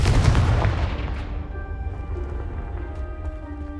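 The Confringo blasting spell in Hogwarts Legacy ends in a heavy booming explosion that strikes loud and close, then its rumble and crackling debris fade away over a few seconds, with no talk.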